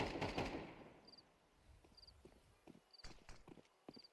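Footsteps in a Counter-Strike match, a run of short soft thuds near a bomb site, mixed with other in-game sounds and quiet periodic beeps, and no voices.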